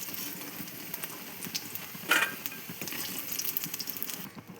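Chicken pakoras, coated with a little semolina, crackle and sizzle steadily in hot oil, with a brief louder burst of bubbling midway before the sound cuts off.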